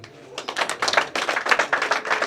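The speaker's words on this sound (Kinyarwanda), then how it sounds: "Ndagira ngo rero bakumira amashyi nyakubahwa." A group applauds at a cow-gifting ceremony, a close burst of rapid, rhythmic hand claps that begins after a brief pause and keeps a steady pace to the end.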